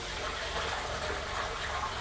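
A traditional Japanese toilet with a hand-washing tap on top, flushing and refilling inside a traditional house in Nara, heard as a close, steady gush of rushing water without pause or talking.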